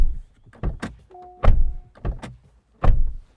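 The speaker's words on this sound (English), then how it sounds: "This is what the door slam sounds like" A Chery Tiggo 4 Pro car door is slammed shut several times, each a solid, close, dull thunk followed by a short pause, with faint clicks in between.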